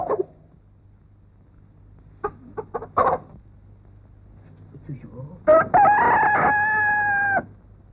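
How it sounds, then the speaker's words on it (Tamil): A rooster crows once, loud and drawn out, after a few scattered clucks and rustles, over a faint steady hum. "கோழி கூப்பிட்டுச்சுமா எழுந்துரு."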